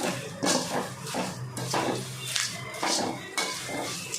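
Curry leaves and rock salt dry-roasting in a pan over mild heat for curry leaf powder, giving repeated crackling, rattling bursts with metallic scraping of a spoon against the pan, close and fairly loud.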